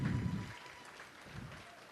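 Applause from the crowd at a sports hall of fame ceremony sounds faint and distant, a brief soft patter of clapping in a large room that quickly dies away.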